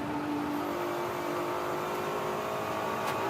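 A GT race car engine during qualifying at NOLA in the Fanatec GT World Challenge America, droning steadily through a sequence of S-turns as the driver modulates the throttle, a continuous loud mechanical roar with no pauses.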